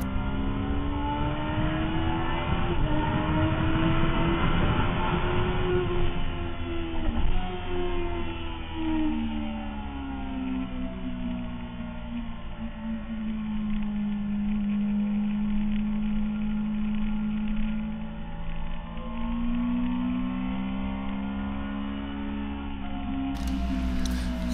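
Yamaha R6S sport motorcycle at full throttle on a racetrack's home straight, a loud, close, high-pitched engine howl climbing steadily through the gears with brief dips at each shift, continuous for over twenty seconds.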